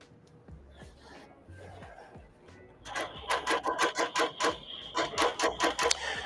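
A quilting machine bastes a quilt down along its side. After a quiet stretch with light handling noise, a close, regular run of quick mechanical stitching pulses starts and continues steadily to the end.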